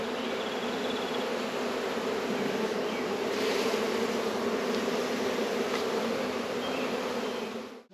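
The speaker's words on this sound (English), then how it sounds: "there's a lot of bees coming back to that" A dense swarm of honeybees drones continuously close by, a thick steady buzz that holds level throughout and cuts off only at the very end.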